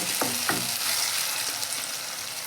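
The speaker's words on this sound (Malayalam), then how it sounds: "നമുക്കിതൊന്ന് ഇളക്കി കൊടുക്കാം" Beef macaroni being stirred in a hot pan: a continuous close sizzle with a few scraping utensil strokes near the start, no voices over it.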